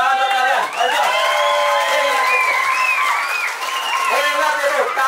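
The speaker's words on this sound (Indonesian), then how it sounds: "Tepuk tangan buat kalian." Children at a one-day English and character camp in Bekasi clap together, loud and close. Excited shouts and whoops ride over the steady clapping, and voices carry through it.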